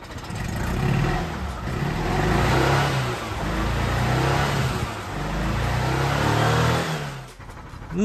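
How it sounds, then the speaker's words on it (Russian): A Tavria car engine, running with diesel fuel in place of its oil, revs hard in repeated loud surges that swell and ease for about seven seconds before dropping away, with no talk over it. "А сейчас хорошенько прогазуем."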